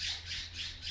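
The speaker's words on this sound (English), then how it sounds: "there's some blue jays being chased by crows." Harsh, repeated squawks from blue jays being chased by crows, coming in rolling waves over a steady background hum with no talking.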